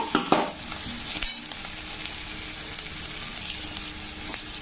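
Steady sizzling and crackling of onion and chili sautéing in a pan, with a few stirring scrapes near the start, continuous and close.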